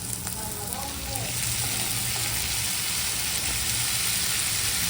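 Tomatoes added to a hot pan for cauliflower curry fry with a loud, steady hiss that builds and holds, a few light clatters of stirring near the start.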